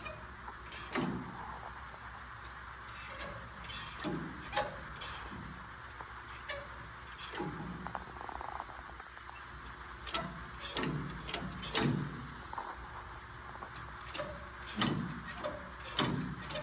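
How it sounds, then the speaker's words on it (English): A dragster's gas pedal pushed repeatedly, working a throttle linkage held by an early Ford spring: faint, scattered mechanical clicks and creaks at an irregular pace, close-up over low background hum. "So just push the gas pedal."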